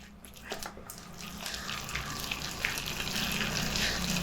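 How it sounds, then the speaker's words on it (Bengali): Whisking biuli dal (urad lentil) batter for pakoras, a steady wet churning and slapping that builds gradually and fills the clip, with no talking. "এইভাবে সমানে ফেনাতে থাকবো"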